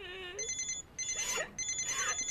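Telephone ringing in a Korean action film, an electronic trilling ring in three close bursts with short pauses between, preceded by a brief voice.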